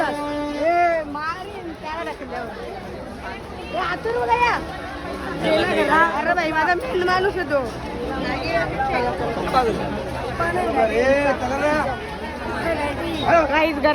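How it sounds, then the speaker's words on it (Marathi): Dense crowd chatter and hubbub at a busy street food area, many voices overlapping steadily and fairly close throughout. "गर्दी"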